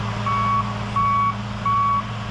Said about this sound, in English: He got his dozer over here, started clearing the trees.